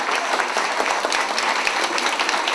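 Dense, steady applause from a school ceremony audience honoring a teacher, many hands clapping loudly and continuously with no pauses.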